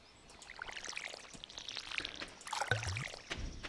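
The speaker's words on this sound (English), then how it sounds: "And let's water it." Watering crops with a watering can in Stardew Valley, a soft splashing pour that trickles and patters, growing a little louder toward the end.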